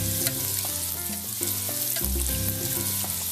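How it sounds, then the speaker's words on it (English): Fry bakes frying in hot oil as oil is spooned over their tops, a constant close sizzle and bubbling with occasional soft clinks of the spoon, no voices. "I'm going to spoon the hot oil on top."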